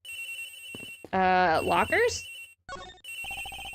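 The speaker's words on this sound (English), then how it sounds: "The ringing is coming from somewhere around here." A telephone in the Ace Attorney Investigations game rings in repeated electronic bursts, loud and near, pausing while a brief line of speech is spoken.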